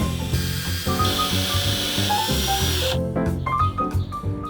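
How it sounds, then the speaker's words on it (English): A power drill drives screws to fasten legs onto a wooden planter, a close whirring run with a steady hiss through most of it, then short bursts and stops toward the end. "I then screwed the legs on."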